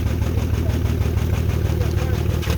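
A Nissan 3.5L engine idles with a steady, low rumbling drone and an even pulse, close by, while people talk over it.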